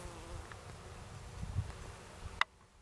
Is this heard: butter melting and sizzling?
no